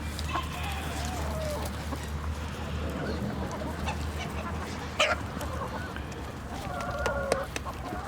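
Chickens cluck and squawk nearby over a steady low hum, with several birds calling at once and people's voices mixed in.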